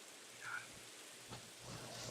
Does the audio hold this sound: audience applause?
no